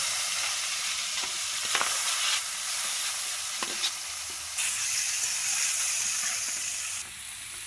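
Potatoes and vegetables frying in oil in a home kitchen, a constant hissing sizzle with intermittent scraping and stirring knocks as a spatula moves them around, no talk.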